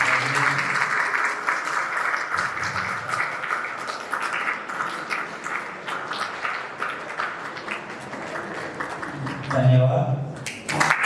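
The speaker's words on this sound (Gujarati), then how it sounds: "જોરદાર તાળીઓથી" Audience applause at a retired police civil staff association felicitation, with steady clapping from a crowd filling the hall throughout, swelling briefly near the end.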